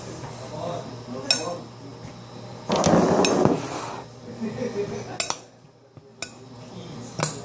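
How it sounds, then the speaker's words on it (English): A spoon knocks and clinks against a bowl while mixing a refreshing salad, with a dense scraping burst in the middle and scattered sharp taps before and after, close and moderately loud over a low steady hum. "what I do before that is I try to mix it up a little bit. With a spoon."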